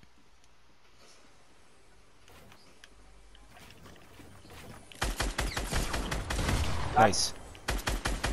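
Gunfire in the video game Fortnite, quiet at first, then a rapid string of loud evenly spaced shots bursting in partway through and continuing to the end, with a brief spoken remark.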